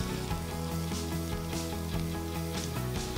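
Brioche perdue slices fry in a cast-iron pan outdoors, giving a steady, dense sizzle that runs unbroken throughout with a low tonal hum underneath.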